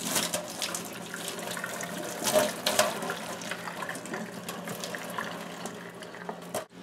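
Water from a sink tap runs over a synthetic wig, a close, irregular splashing and trickling that swells and fades as the hair is moved beneath the stream.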